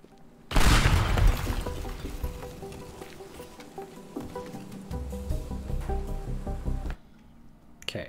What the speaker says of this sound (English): Stupid bouncy pipe bombs.